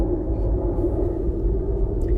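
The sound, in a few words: airplane flying overhead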